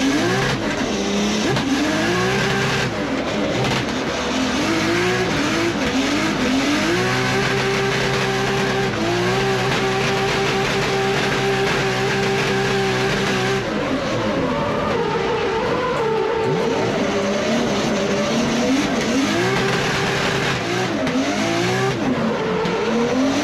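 A drift car skids with squealing tires, its engine revving and roaring continuously at close range, the tire screech rising and falling through long slides.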